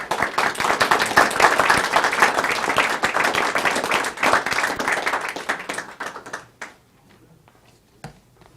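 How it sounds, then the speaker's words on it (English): Audience applause at a board of education meeting, close and lively clapping from a room of people that thins out and stops, leaving a few scattered claps and quiet room noise. "round of applause"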